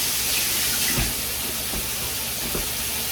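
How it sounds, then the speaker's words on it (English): Tap water runs steadily while hands are rinsed under it, a constant close hiss of flowing water with soft splashing shifts and no voices. "Rinse my hands a bit."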